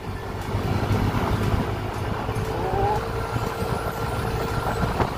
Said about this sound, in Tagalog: So dagdag lakas ng makina yan guys.